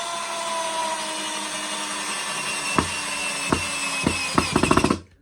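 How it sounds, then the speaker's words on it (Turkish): A cordless drill whirs steadily as it drives a hot screw back into a pre-drilled hole in wood, then gives a series of sharp ratcheting clicks as it struggles before stopping. "zaten atılmış bir deliğe tekrardan aynı vidayı çakıyoruz."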